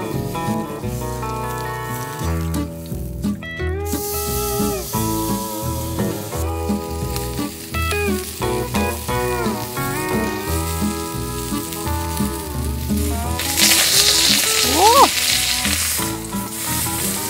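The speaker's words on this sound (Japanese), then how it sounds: "蓋のこちらの面をフライパン代わりにして、両面魚の焼き目をつけていきます" Fish sears loudly on a camping pot lid used as a frying pan, a constant crackling sizzle that intensifies near the end, with melodic tones sounding in the background throughout.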